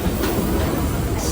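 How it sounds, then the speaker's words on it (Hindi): A Mumbai local train runs on its line from Malad toward Charni Road, with a steady loud rumble of wheels and carriage noise throughout, a faint clickety-clack rhythm, and no talking. "मलाड से लोकल ट्रेन पकड़कर अब हम चलते हैं चरनी रोड।"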